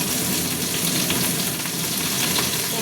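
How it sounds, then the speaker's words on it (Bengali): Oil sizzling loudly and steadily in a hot wok, a close, continuous hiss with light stirring. "আচ্ছা একটু কড়া গরম হয়ে গেছে, তেল দিয়ে দিচ্ছি।"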